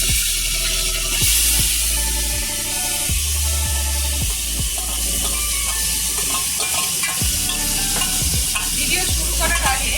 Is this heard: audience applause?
no